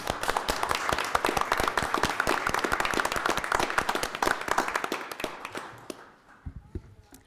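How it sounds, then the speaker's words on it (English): Sustained applause from an audience at a county supervisors' meeting, dense clapping for about five seconds before thinning out to a few scattered claps and fading to quiet. "One more round of applause, maybe?"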